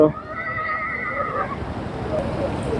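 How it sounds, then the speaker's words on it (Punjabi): A horse at a stud farm during the Jagraon fair lets out a loud whinny at the start, followed by a steady noisy background with faint voices. "ਘੋੜੇ ਤੇ ਘੋੜੀਆਂ"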